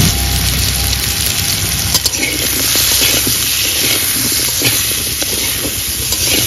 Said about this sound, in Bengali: আলুতে একটু লবণ হলুদ দিয়ে ভেজে নেব